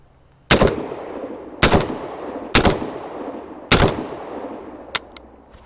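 Four loud, separate shotgun blasts from a Rock Island Armory VR80 semi-automatic shotgun, spaced about a second apart, each with a long echoing decay, followed by a faint metallic click.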